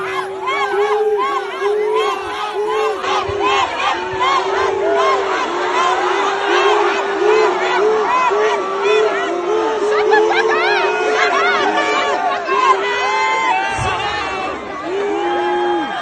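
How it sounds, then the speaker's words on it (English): A large crowd boos a woman in a loud, sustained roar of overlapping voices that holds steady for the whole stretch. "2 minutes and 39 seconds of her being booed."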